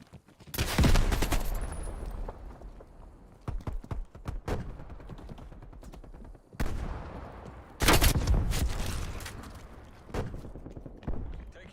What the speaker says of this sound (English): I pulled out the AK.